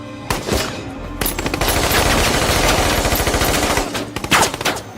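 Dense, sustained automatic gunfire exchange from the film Sicario, loud and close, with rapid overlapping bursts that run almost continuously before thinning out near the end.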